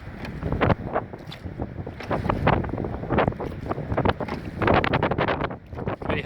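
Strong wind buffets the microphone in gusty rushes while a dinghy is rowed through the Scottish Highlands, loud and continuous with no voices.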